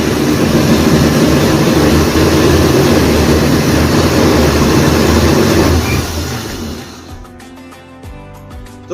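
An electric blender grinds mulberries with sugar and water into juice, a loud, dense whirring roar that runs steadily for several seconds, then winds down and stops near the end.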